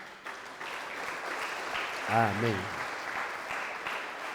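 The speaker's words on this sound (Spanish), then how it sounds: "¿quieren darle un fuerte aplauso al Señor?" A church congregation applauding during a service, a continuous wash of clapping with a brief voice calling out over it midway.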